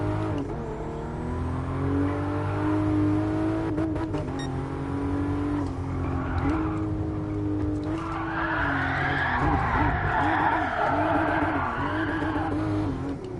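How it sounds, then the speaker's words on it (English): In Gran Turismo Sport, played with a Logitech G29 steering wheel, a car drifts with its engine droning and its tyres squealing and skidding, the screech building into a long, loud slide near the end. "Maybe I'm just terrible at drifting."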